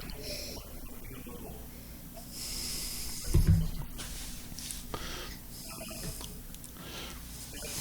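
Quiet room tone with a few soft breathy sniffs of Maker's Mark bourbon and one sharper snort-like burst partway through.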